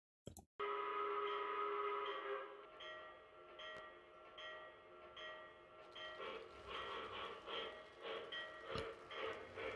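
Steam locomotive chuffs from a model train sound decoder, steady near puffs with a hissing, bell-like ring and occasional whistle-like tones, loud and alone.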